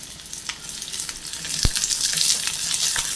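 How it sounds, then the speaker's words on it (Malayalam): Green chillies, garlic and chopped onion sautéing in a pan for a Kerala cheera coconut milk curry, a loud steady sizzle close up with a brief clink of the stirring spoon partway through. "ഒരു ഹാഫ് സവാള അരിഞ്ഞത് അതും കൂടെ ചേർത്ത് വഴറ്റിയെടുക്കാം."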